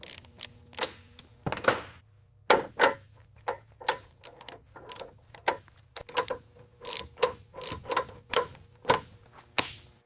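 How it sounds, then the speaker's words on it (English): Repeated sharp metallic clicks and clanks from a torque wrench tightening new suspension components on a restored vintage USPS mail truck, coming in an irregular series of close, crisp impacts with no talk. "We use the torque wrench here to ensure the new suspension components are secured to the exact factory specifications."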